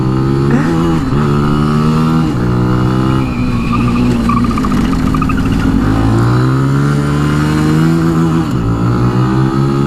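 A 2018 Benelli TNT 135 small motorcycle accelerating hard, its engine loud and close, pitch climbing through each gear then dropping at several shifts before rising again, with no voices over the steady engine roar.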